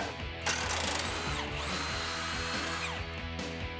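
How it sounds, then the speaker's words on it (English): Power tool spinning off the lower track bar bolt on a Jeep Wrangler JK, a loud continuous whirring whine with pitch swells and bursts of harder impact, heard close and alone. "Next, we're going to remove the lower track bar bolt."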